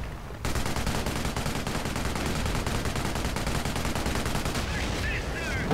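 Rapid machine-gun fire in a World War II real-time strategy game fighting over a Panzer tank, with a fast continuous rattle of shots that starts abruptly and stays loud and close, while a commentator speaks over it.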